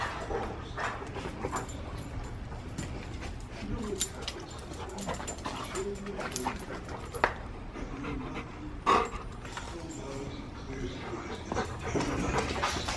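Dogs whimper and pant close by in an excited, restless stretch, with occasional yips and soft sounds of movement throughout.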